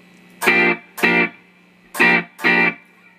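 Guitar played through an Amplitube emulation of a 1960s Fender Super Reverb amp with the reverb turned fully off: four short, loud chords in two pairs, each cut off cleanly with no tail, alone and without talk.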